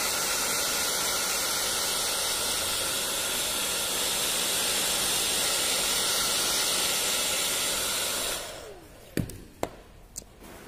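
A hair dryer blows a steady, loud broadband hiss onto the headlight lens of a Honda Revo, running continuously for about eight seconds before cutting off, followed by a few sharp clicks and taps.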